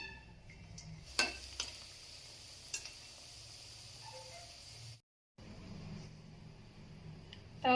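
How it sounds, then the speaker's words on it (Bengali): Mini singaras fry in hot oil with a low, steady bubbling hiss, broken by a few light clinks of a spoon or pan and a brief gap of silence partway through. "তো একইভাবে বাকিগুলো ভেজে নিচ্ছি"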